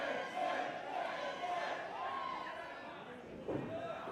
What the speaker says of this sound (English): The crowd getting behind Carter Mason.